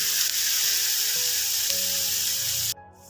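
Homemade bhujia mixture with half a lemon squeezed in, roasting in a pan: a steady, even sizzle and hiss that cuts off abruptly near the end, no voices.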